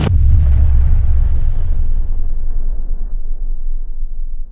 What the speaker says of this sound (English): The size of the explosion was amazing.